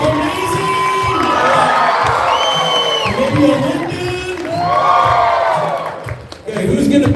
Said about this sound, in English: Oh man, we can clap.